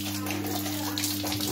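Dirty water rushes out while a combi boiler's heating radiator is flushed. It makes a brief, close, continuous gush over a steady low mechanical hum.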